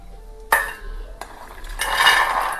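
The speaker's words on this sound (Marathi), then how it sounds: "साईडला ठेवते शेंगदाणे" Roasted peanuts are tipped into a bowl in a kitchen, a sharp clink of metal followed by a scraping clatter and a rising rattle of nuts sliding against the dish.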